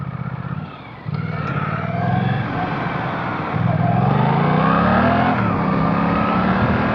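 A Suzuki GSX-8S motorcycle engine rumbles and climbs in pitch as it accelerates, a deep, loud exhaust note building steadily close by.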